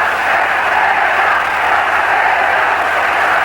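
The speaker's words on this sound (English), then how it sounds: "This crowd, largely natives of the island, chanting for their champion" Boxing arena crowd of island natives chanting for their champion Escalera during his bout with Alexis Arguello, a loud, continuous massed roar with no break across the stretch.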